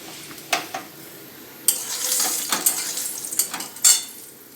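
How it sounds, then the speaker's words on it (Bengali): Lentil dumplings (bori) frying in oil in a wok, with a soft sizzle broken by sharp metallic clinks and scrapes of a utensil against the pan, a few louder bursts, and no talk. "এই তেল দিয়েছি কড়াইতে, দিয়ে এবার বড়িগুলো ভেজে নেব।"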